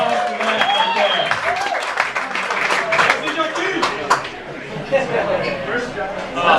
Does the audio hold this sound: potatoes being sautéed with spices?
no